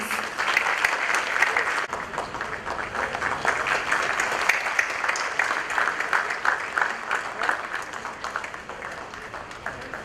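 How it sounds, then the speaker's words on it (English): Sustained audience applause at the inauguration of a pharmaceutical trade exhibition, dense and continuous, with individual claps audible throughout. "May I hear for a big round of applause, please?"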